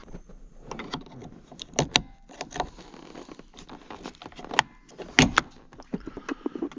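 Plastic B-pillar trim cover on a Suzuki Grand Vitara being pried and pulled off, a run of sharp close clicks and plastic snaps with scraping rustles between them.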